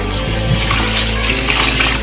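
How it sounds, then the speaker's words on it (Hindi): One kilo of rice is rinsed in water for dal chawal, a close, loud splashing and sloshing wash that runs continuously for about two seconds. "पानी से धो लेते हैं"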